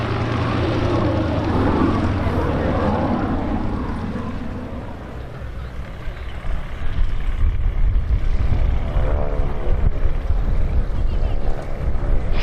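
A 1930s Beechcraft Staggerwing five-seat biplane flies past at an airshow, its engine drone building from a muffled hum to a louder, steady roar that holds to the end, with crowd murmur beneath.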